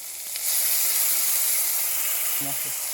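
Tomato and ground spice paste hitting a hot pan for a Bata fish curry, a steady close sizzle and hiss that rises after a moment and holds, with a short burst of speech near the end.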